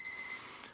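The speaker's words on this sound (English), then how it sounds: "Sorry, that's my alarm clock." An alarm clock beeps faintly and steadily in a quiet room, a thin high tone holding for a fraction of a second with a soft rustle at the end.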